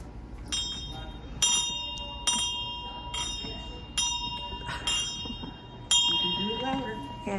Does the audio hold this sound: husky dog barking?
no